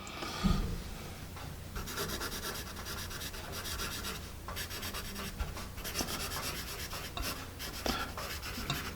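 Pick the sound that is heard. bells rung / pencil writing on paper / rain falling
pencil writing on paper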